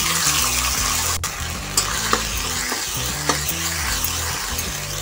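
Bay leaves, cinnamon and cumin sizzle steadily in hot oil in a kadhai while being stirred, a loud, continuous frying crackle with occasional utensil clinks, no voices.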